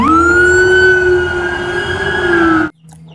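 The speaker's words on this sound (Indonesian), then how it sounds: "Mobil polisi patwal." A toy police escort car's electronic siren wails in a loud, steady tone for nearly three seconds, close to the microphone, then cuts off abruptly to near silence; no one speaks over it.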